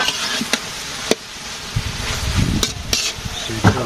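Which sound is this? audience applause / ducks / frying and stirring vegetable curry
frying and stirring vegetable curry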